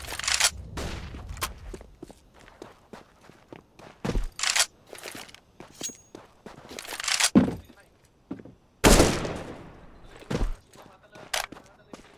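Counter-Strike: Global Offensive match with sharp, loud bursts of gunfire and grenade pops scattered across the stretch, broken by quieter gaps with footsteps and clinks, one heavy blast standing out near the end.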